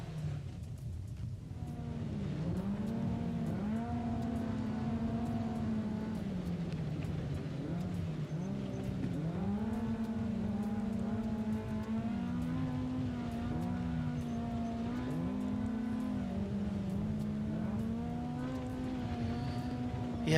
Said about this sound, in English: You can hear that car winding up there with the sounds from the track.